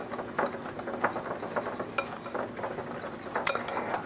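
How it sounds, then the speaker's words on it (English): A whisk clattering quickly against a bowl, mixing garlic powder, cayenne pepper and kosher salt, with light rhythmic metallic clinks up close and no talk. "We're just going to whisk that together really well so it's all mixed."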